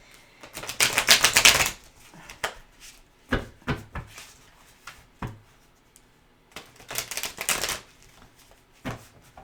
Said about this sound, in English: Let's go ahead and give you some good shuffles.